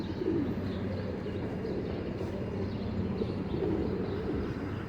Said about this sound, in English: Oh, I see that pigeon over there.